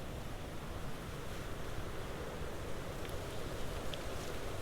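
Steady wind buffets the microphone outdoors by reeds during winter perch fishing, a continuous broad rushing noise with faint water sounds beneath.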